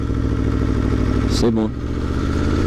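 A new motorcycle's engine runs steadily close by with an even, throbbing hum, while someone speaks briefly over it midway.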